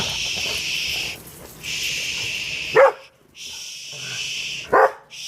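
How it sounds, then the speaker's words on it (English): A dog lets out two sharp, loud barks a couple of seconds apart, cutting through a steady hissing background noise. "No barking!"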